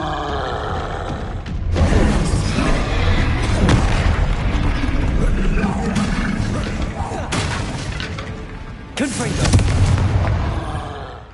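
Bombarda explosion spell cast in the Hogwarts Legacy video game, heavy booming blasts with rumbling low end, a sustained explosive burst followed by a second loud impact near the end.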